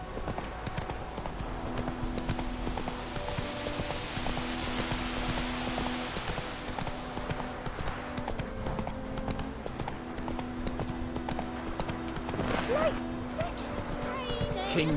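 Steady hoof clip-clops from a horse walking along in The Witcher 3: Wild Hunt, with game music and ambient tones underneath and a voice briefly speaking.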